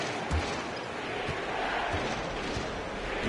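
Franklin fans in the stands at a high school basketball finals game against Plainfield, a steady broadband crowd roar with scattered ball bounces and thuds beneath it, loud and continuous throughout.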